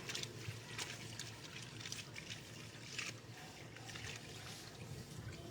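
Liquid soap is poured into a container of water, a steady close trickling and splashing wash that runs continuously at a soft level with no talk over it.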